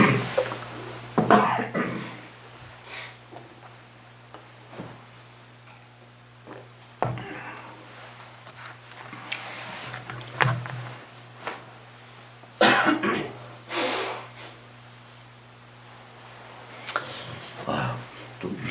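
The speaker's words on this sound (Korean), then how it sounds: "좀 유별나게 오늘은 기침이 많이 나네요." A preacher coughs repeatedly during a church Genesis lecture, with several sharp, separate coughs and throat clearing scattered across a quiet room over a low, steady hum.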